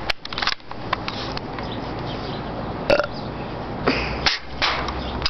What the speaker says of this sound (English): I don't know how I burped.